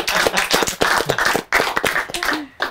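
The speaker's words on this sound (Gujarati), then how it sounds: "તાળીઓ પાડ લો ને ભાઈ." Hands clapping in a fast, irregular burst among a group of people at a Gujarati comedy show, sharp close slaps continuing for a few seconds with brief pauses.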